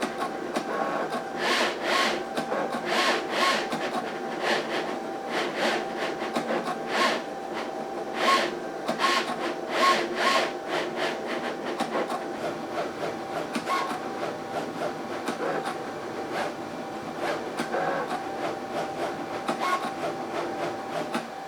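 A Cricut Venture cutting machine draws a poster with a steady mechanical whir, broken by repeated short clicking bursts as the carriage moves. It is close and moderately loud, with no talking.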